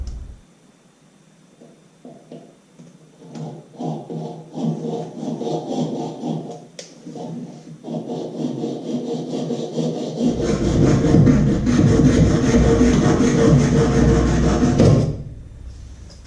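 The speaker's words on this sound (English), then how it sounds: "we're going to go ahead and make a mark here and cut this off at 1 inch." Hand sawing through a piece of material cut to one inch while a livewell pump is fitted in a jon boat, with steady back-and-forth strokes that grow louder and denser near the end before stopping, close by and without talk.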